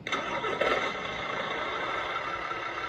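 Simulated engine from the sound system of a 1/14 scale Mercedes Zetros 6x6 RC truck, controlled by the throttle: a faint, steady mechanical drone with a slight swell near the start, playing at low volume without any talk.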